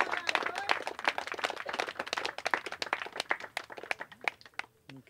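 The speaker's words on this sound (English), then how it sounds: "And a big round of applause" Scattered, fairly close clapping from a small audience at a canoeing event, irregular individual claps that thin out and stop toward the end.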